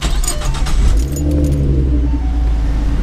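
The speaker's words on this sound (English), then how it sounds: "So let's get this started up." Tuned V6 Ford Mustang engine starting up, with a jangle of keys, a quick crank and a low rumbling idle that settles and holds, loud and close with no talk.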